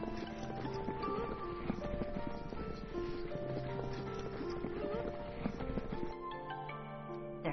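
Horses and camels carrying Kazakh nomads' dismantled homes walk along, hooves clip-clopping steadily and fairly close amid a busy, continuous background of movement and murmur.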